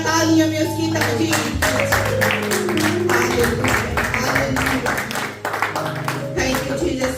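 Clapping from a Pakistani Christian fellowship congregation mixes with music and singing, a dense steady stream of hand claps running the whole time alongside sustained tones.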